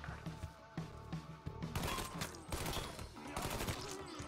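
Rapid bursts of gunfire from the video game Mafia 3, a loud fusillade of overlapping shots and automatic fire, dense and continuous through the whole stretch.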